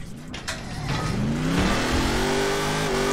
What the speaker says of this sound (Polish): Tak, ten samochód jest doładowany.